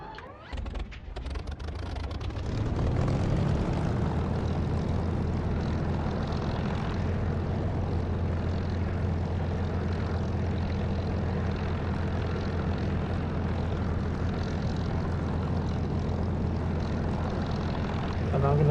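A propeller aircraft engine in the DCS flight simulator cranks with rapid sputtering, catches after a couple of seconds, and settles into a loud, steady droning run with a strong low hum.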